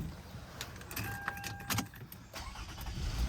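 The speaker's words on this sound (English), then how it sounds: "I'm gonna go ahead and start the car up and warm it up" A 2008 Toyota Avalon's 3.5L V6 engine turns over and catches, with a faint jingle of keys and small clicks, fairly quiet and close.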